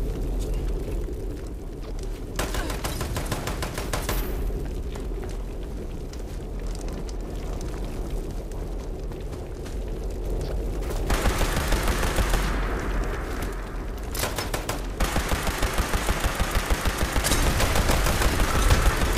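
Rapid automatic gunfire from a weapon in the video game Fallout 76, sustained bursts crackling continuously and growing denser and louder toward the end, with no talking.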